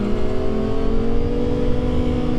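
A stretched and lowered Kawasaki ZX-6R 600cc motorcycle gives a steady, loud engine drone while being ridden, a constant hum with slight shifts in pitch and no speech.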